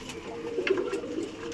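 A pigeon at Somnath Pigeon Gurukul coos softly nearby in a few low, throaty pulses over a faint background hum, with no one talking.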